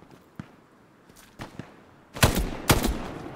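A Thompson submachine gun in a video game fires a few sparse shots, then two louder close bursts of rapid fire near the end.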